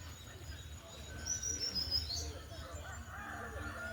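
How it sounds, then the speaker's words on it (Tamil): Sparrows chirp among roses in a morning garden, a few bright high tweets and short calls heard faintly against a low background hum, with insects faint in the mix. "எவ்வளோ குருவி வந்து உட்காந்துருக்கு"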